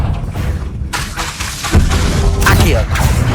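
Confringo blasting spells in Hogwarts Legacy combat: a few sharp, close thuds and booms with shattering crashes arrive in quick succession over about three seconds, layered with game effects.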